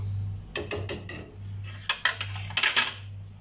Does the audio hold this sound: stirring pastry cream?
yes